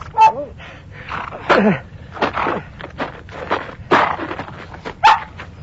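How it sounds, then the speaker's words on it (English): A cluster of hounds whimpering and yelping as a radio drama sound effect for a Sherlock Holmes Hound of the Baskervilles adventure, with repeated close high whines and short barks in uneven bursts, no speech over them. "soon came upon a cluster of whimpering hounds"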